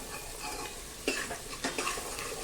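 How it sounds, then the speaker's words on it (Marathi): Onion sautéing in a pan for bharli vangi gives a steady soft sizzle, with a few brief scraping stirs of a spoon against the pan standing out near the middle. "असा छान कांदा परतून घ्यायचा. कांदा छान परतला गेलेला आहे."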